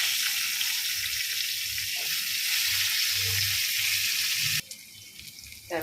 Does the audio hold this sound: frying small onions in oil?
yes